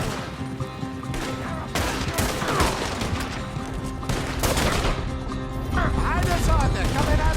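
Gunfire in the Western video game Red Dead Redemption 2, made up of repeated sharp shots through a continuous busy game mix with music and effects, while people talk over the action.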